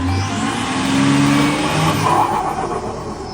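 A BMW X5 diesel SUV engine with an upgraded intake revs hard and roars continuously up close, the pitch climbing and falling with a throaty growl.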